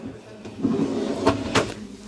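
Large kitchen drawer in a Fleurette Discover 71 LMF motorhome sliding open, with a short rolling rumble followed by two sharp knocks as it runs out and stops, close by amid faint room noise.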